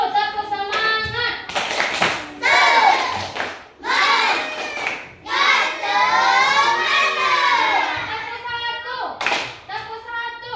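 Schoolchildren in a classroom clap a rhythmic cheer together, sharp bursts of group clapping mixed with chanted, sung voices that rise and fall, loud and close throughout.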